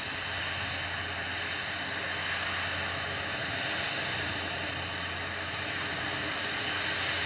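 A Virgin Atlantic airliner taxiing out at Manchester Airport, heard as a steady, even roar of jet engines with broadband hiss, heard from a distance with no voices.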